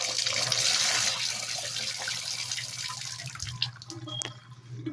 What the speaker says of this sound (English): I'm just going to try to flush what's left down the drain